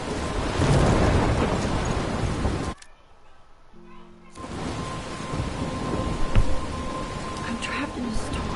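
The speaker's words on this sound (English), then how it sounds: "I'm trapped in a storm?" Rain and thunder from a storm in the video game Life is Strange: loud, dense rainfall with rumbling that drops out briefly mid-clip, leaving a faint low tone, then the downpour returns and swells again.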